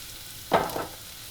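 Green beans tossed in hot oil in a pan for vegetable fried rice: a single short burst of sizzle and stirring that swells quickly, then fades, with no talking.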